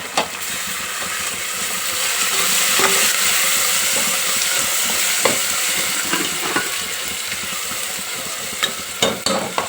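Mutton curry masala with mint and coriander frying in a pan, a loud continuous sizzle with the rhythmic scrape of stirring running through it and no talk.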